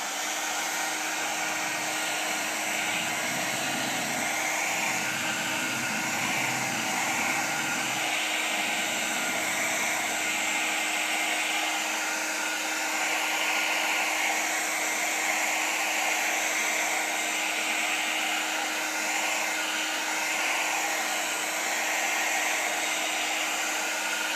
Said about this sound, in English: Start the dryer and blow it on one side of the slate.